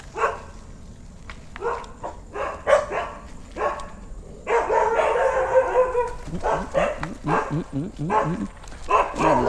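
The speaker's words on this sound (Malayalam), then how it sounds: "കുറച്ച് പട്ടികൾ തലങ്ങും വിലങ്ങും പട്ടികളാണല്ലോ" Several dogs bark in short, sharp bursts at close range, overlapping and uneven, with a busy, noisy background throughout.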